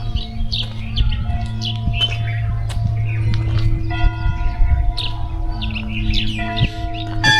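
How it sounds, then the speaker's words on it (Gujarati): Birds chirp and tweet in quick, scattered calls by the Sabarmati riverbank, close and lively, with a ringing, bell-like tone running steadily beneath them and no talking. "અને પક્ષીઓનું અવાજ સંભળાય મસ્ત છે."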